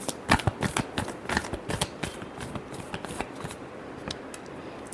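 Tarot cards riffled and shuffled by hand in quick flurries of crisp papery snaps, close and fairly quiet, with no talking.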